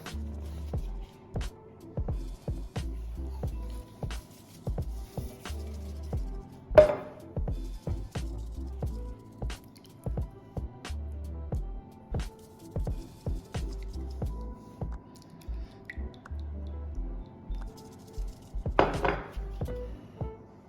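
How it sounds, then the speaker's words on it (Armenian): Apple pie dough ingredients are mixed in a bowl, giving quiet, irregular scraping and knocking from the utensil against the bowl, with a few sharper clinks standing out, close and fairly faint. "Բաղադրիչները խառնեցինք իրար, լավ հարեցինք"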